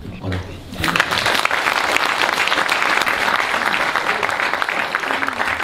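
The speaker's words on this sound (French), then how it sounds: "applaudissements pour vous" Applause from a poetry and slam audience fills the room. After a brief spoken moment it swells into a dense, loud, steady roar of many hands that lasts throughout.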